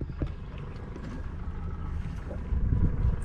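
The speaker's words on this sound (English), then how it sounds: "Wind." Wind gusts buffet the microphone on a fishing boat at sea off Southern California, a continuous low rumble with the hull and water underneath, rising in strength toward the end.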